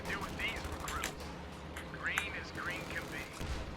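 Rapid gunfire bursts from the video game Company of Heroes 2, with crackling shots and whistling sweeps repeating over a constant battle din for several seconds at moderate level.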